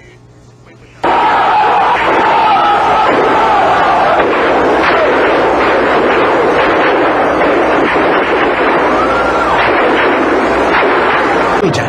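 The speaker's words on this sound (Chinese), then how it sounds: "天安门前只闻一片呼声和枪声" Footage from Tiananmen Square in 1989 opens with a short quiet stretch, then cuts to a loud, dense roar of a shouting crowd with cracks and bursts of gunfire mixed through it.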